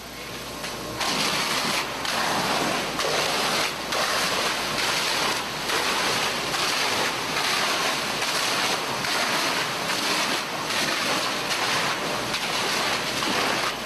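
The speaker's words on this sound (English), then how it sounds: "face the exposed side of that assembly towards a fire water hose stream application" A fire department hose stream at about 30 psi blasts against the exposed face of a 2-hour fire-rated gypsum sheetrock wall. The water roars loud and steady, with a dense rushing hiss that drums in pulses the whole way through.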